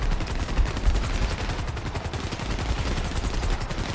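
Dense, rapid gunfire from Grand Theft Auto 5, sustained bursts of close automatic shots rattling steadily without pause and with no talk over them.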